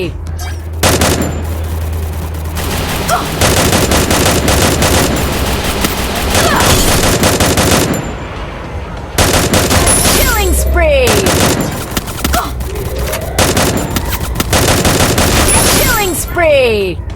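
Video game gunfire in rapid bursts and sustained volleys, loud and close, broken by brief lulls and mixed with other game sound effects and excited voices.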